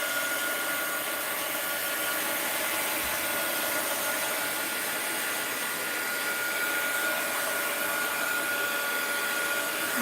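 Continuous even whooshing roar of a heat gun being run over art material, close and loud, holding steady with no pauses or talk throughout.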